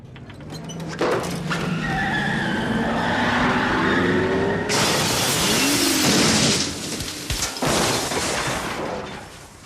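A Ferrari crashing out of a window in a 1980s film scene: a revving engine and squealing tyres, then a loud shattering, smashing crash, with rumbling and clattering debris under a film score and no talking.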